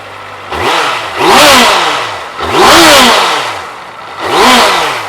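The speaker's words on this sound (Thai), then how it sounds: "ขออนุญาตเบิ้ลเครื่องให้ฟังกันแบบใกล้ๆกันนิดนึง" A Honda CBR650F motorcycle engine, a 2016 model, revs up hard three times in close succession, each rising whine peaking loudly and falling back to a rough idle between bursts.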